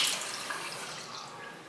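Tap water runs steadily into a bathroom sink while a face is rinsed clean during a nighttime skincare routine, a close continuous splashing hiss with no talking.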